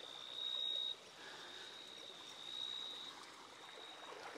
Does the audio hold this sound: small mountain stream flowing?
yes